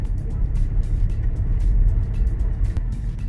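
Low rumbling drone of a car driving slowly over a rough dirt road, with steady bumpy road noise and occasional light rattles from inside the cabin.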